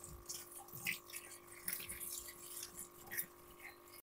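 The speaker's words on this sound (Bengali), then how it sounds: "এইভাবে একটা একটা করেই ধুয়ে নেব পাতাগুলো" Kharkol leaves washed one by one under running water, with a faint, steady trickle and soft splashing and dripping close by and a low hum underneath.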